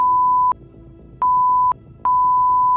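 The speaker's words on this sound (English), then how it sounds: "I will beep that up." Censor beep tones blanking out a hotel name, three steady mid-pitched bleeps of about half a second to a second each, separated by short breaks of quiet background.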